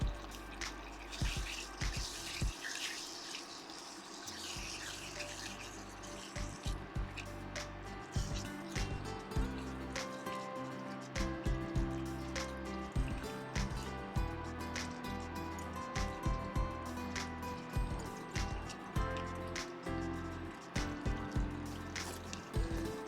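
Garbanzo bean stroganoff sauce simmers in a pan, giving soft, irregular bubbling, popping and dripping sounds that continue at a low, close level.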